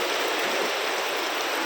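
Heavy rain falls during a flood that has submerged homes, giving a dense, continuous, loud hiss of drops with no voices.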